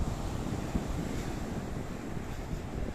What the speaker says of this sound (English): there's a little bit of chopsiness in the sea today. There's a little bit of a breeze, Dave